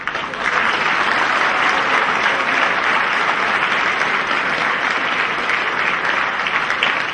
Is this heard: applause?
yes